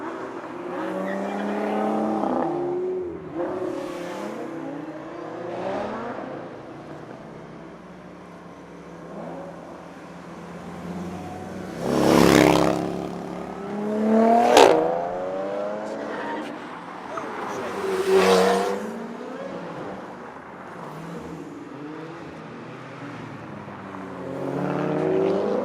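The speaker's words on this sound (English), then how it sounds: "488 passing by" A Ferrari 488 supercar passes through a tunnel, its engine rising and falling over several loud roaring surges with echo, while people talk throughout.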